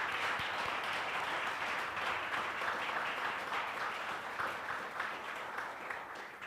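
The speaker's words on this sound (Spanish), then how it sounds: "Por favor, un aplauso para nuestros panelistas." Audience at a panel discussion on arbitration and peace applauding steadily for the panelists, a dense, even wash of clapping held at moderate distance throughout.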